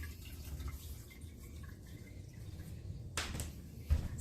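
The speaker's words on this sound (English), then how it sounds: "So that's the water you hear" Water trickles and drips steadily into a home fish tank as a faint, continuous wash of liquid, with a few slightly louder splashy bursts near the end.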